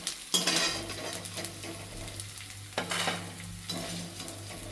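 Edible gum (gundar) roasting in a pan for gundar pak, a steady close sizzle with scraping spatula strokes and occasional metal clinks, no voices.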